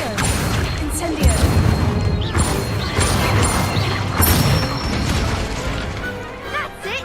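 Spell impacts from the Hogwarts Legacy video game, with Accio and Incendio being cast: a dense run of crashing, popping blasts over a steady game backdrop, with a voice speaking over part of it.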